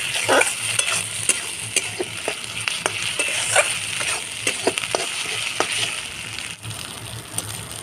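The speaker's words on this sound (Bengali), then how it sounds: "ভালো করে ভেজে নিতে হবে" Jackfruit kofta with garlic fries in hot oil in a pan, a steady close sizzle broken by frequent sharp spatula taps and scrapes against the metal, with no talking.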